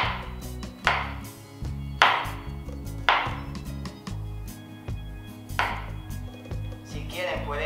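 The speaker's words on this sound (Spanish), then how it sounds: "picamos también el ajo" Garlic being chopped with a knife on a board, with several sharp cutting strikes and shorter taps spread across the stretch over steady background music.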